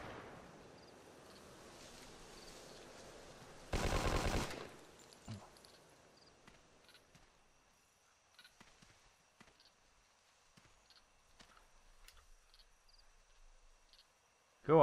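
Machine gun fire in Hidden & Dangerous 2, one loud sustained burst lasting under a second, followed by scattered faint distant shots and clicks over a quiet background.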